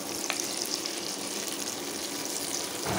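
Potatoes fry for macaroni in a pan, giving a steady, close sizzle that holds evenly throughout with no talk.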